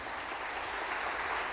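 Congregation clapping in a Brazilian church service for the name of Jesus, a brief continuous wash of many hands at an even, fairly full level.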